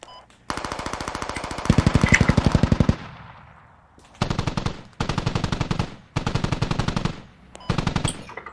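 Automatic weapon fire in the military shooter game Squad, loud close bursts of rapid rounds, one long burst then several shorter bursts separated by brief pauses, with no talk over them.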